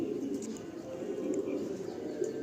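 Pigeons coo softly and continuously at a Nepalgunge pigeon sale, a low steady murmur with faint higher chirps scattered across it.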